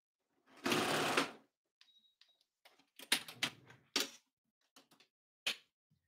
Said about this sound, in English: We're going to draw that line across and we're going to sew it again right there.